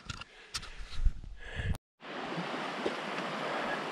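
Swollen brook, usually a trickle, rushing steadily beneath a high bridge, a broad continuous wash of flowing water after a brief burst of outdoor handling noise and a short cut.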